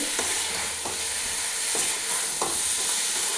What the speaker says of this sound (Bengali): এবারে ভালো করে মশলাটা মিশিয়ে নিচ্ছি